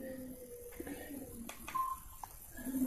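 Short electronic keypad beeps from a Samsung GT-E1170 mobile phone sound as its keys are pressed, a few quiet separate tones over a soft background, no talking.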